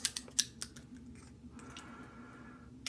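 A small pair of scissors from an everyday-carry backpack kit is handled up close, giving a few sharp metallic clicks and snips at the start, then quieter faint handling.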